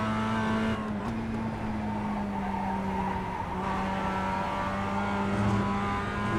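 A Mazda race car engine drones steadily at high revs around Oulton Park's Fosters circuit in the iRacing sim, with a sustained tonal whine and faint tyre scrub, constant and loud throughout.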